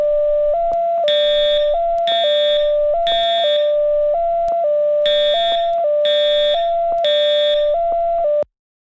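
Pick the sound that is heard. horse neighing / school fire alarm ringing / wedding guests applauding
school fire alarm ringing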